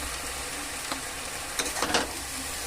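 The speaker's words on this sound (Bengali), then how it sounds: "এবার ভালো করে ভাজা করে নিতে হবে।" Water spinach seasoned with salt and turmeric fries in a pan with a faint, steady sizzle, and a few soft stirring scrapes rise briefly near the middle.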